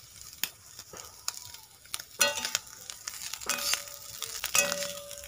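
Mouki fish fry in hot oil, soft crackles and sharp sizzling pops bursting irregularly at close range over a quiet background, with no voices.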